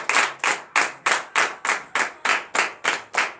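During a morning prayer service in Benin, a congregation claps together in a firm, even rhythm of about two to three claps per second. The claps are loud and close, with no talking.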